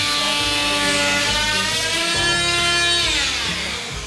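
A router fitted with a new carbide tip cuts into wood, giving a loud, close, high-pitched whine with a shifting grinding tone as the bit bites in and the pitch drops under load, continuing throughout.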